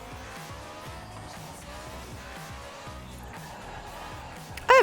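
A supercar in the Forza Horizon 4 racing game drives along with a steady engine drone and a running tire squeal, close and continuous, ending in a sudden louder burst.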